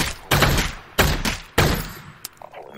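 Three loud, punchy shotgun blasts from Half-Life: Alyx in VR, spaced about half a second apart, each with a booming decay, followed by a few faint clicks and handling noises.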